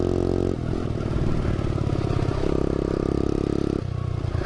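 A Honda CRF dirt bike engine with a large hole in its exhaust runs loud and close. Its raspy, throbbing note shifts pitch in steps as the revs change.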